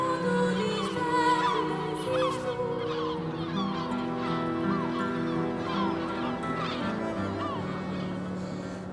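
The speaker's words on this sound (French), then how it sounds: "les oiseaux seront à nouveau les seuls maîtres de Berlingha" Seabirds on Berlenga island off Portugal, a dense colony chorus of overlapping honking, squawking calls, loud and continuous throughout.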